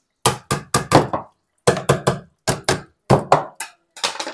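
A washing machine part is struck repeatedly to knock loose caked dirt, giving sharp, loud knocks in quick clusters of two to four with brief silent gaps between them.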